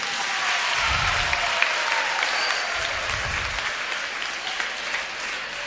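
An audience applauds a mountaineer who climbed Mount Everest, with dense, sustained clapping from a large crowd that fills the room for several seconds at a steady level.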